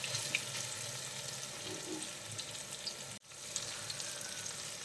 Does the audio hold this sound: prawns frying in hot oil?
yes